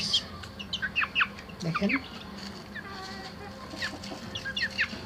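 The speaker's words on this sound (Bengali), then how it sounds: "আমার গলা ছিল পছন্দের একটা মুরগি" A naked-neck chicken clucks in short bursts close by, mixed with high chirps, while a person speaks briefly over the bird.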